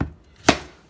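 A single sharp knife chop on a cutting board while preparing beef and vegetables for caldo de res, one crisp close strike amid quiet.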